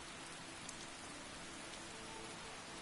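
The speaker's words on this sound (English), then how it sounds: "This rain has got to go away." Constant, even rain fills the scene in Skyrim, a dense unbroken hiss of drops pattering on surfaces at a steady moderate level with no voices.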